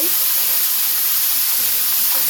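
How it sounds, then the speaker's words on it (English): Beef searing in a hot pan, a loud, close, continuous hissing sizzle with no talk. "I'm just going to go ahead and sear off both batches of this beef"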